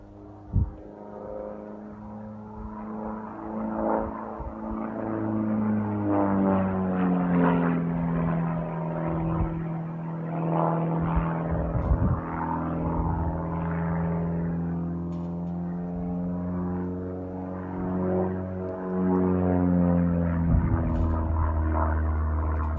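An aerobatic propeller airplane's engine drones loudly overhead, its pitch sweeping up and down as it climbs, turns and dives through maneuvers such as a hammerhead, continuous for the whole stretch.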